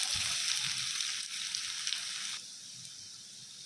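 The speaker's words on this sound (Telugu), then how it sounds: "లైట్గా ఫ్రై చేసుకుందాం హై ఫ్లేమ్లో" Sliced onions frying in a tablespoon of hot oil in a pan over high flame, a steady bright sizzle that stays close and continuous, settling slightly quieter toward the end.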